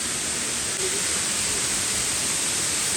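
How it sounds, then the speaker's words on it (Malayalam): Water tumbling at a hidden waterfall near Thrissur in Kerala, a steady broadband rush that stays even and unbroken throughout, close and fairly loud with no voices over it. "നല്ല വെള്ളം ചാടിന്നല്ലോ അല്ലേ?"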